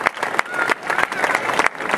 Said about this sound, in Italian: Grazie per l'applauso perché se lo merito tutto.